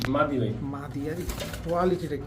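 A cream-eyed pigeon coos nearby in a few soft, rolling phrases with short pauses between them, set against quiet background noise.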